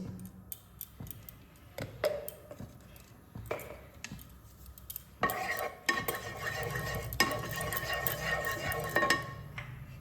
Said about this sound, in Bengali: সামান্য ঘি দিয়ে কাজু কিশমিশটা ভেজে নিচ্ছি